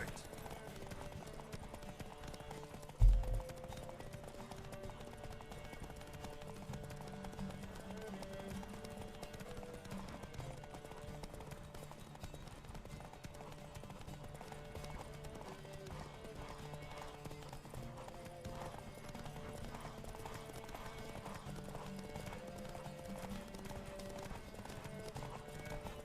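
A horse gallops in The Witcher 3: Wild Hunt, its hooves beating a steady, quiet clip-clop rhythm throughout under faint background game sound, with one brief thump early on.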